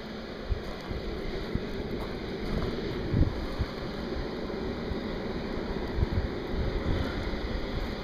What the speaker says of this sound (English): it's real breezy, blowing around today